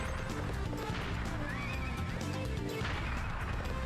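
A horse whinnies in a video game amid busy game sound, with hoofbeats and a crash mixed into the dense, loud background.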